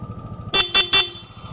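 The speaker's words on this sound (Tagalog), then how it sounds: "Loud horn, passing." Three short, loud PIAA dual air horn blasts in quick succession ring out over a steady Yamaha NMAX scooter engine drone.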